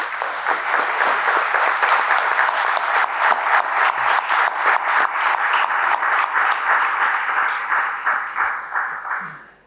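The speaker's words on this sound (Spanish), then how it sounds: "Y quiero pedir un aplauso para el colega que está aquí." An audience at a book launch claps for a colleague, a sustained round of many hands applauding steadily at close range for several seconds before fading out, with no talk over it.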